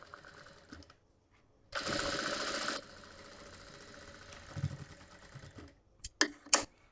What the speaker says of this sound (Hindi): दोनों तरफ से डबल सिलाई हम इस तरीके से लगा लेंगे